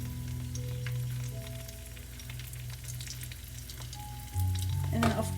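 Dried chili, spices and asafoetida sizzling in hot ghee for sambhar, a steady soft crackle under low tonal hum, rising slightly louder near the end.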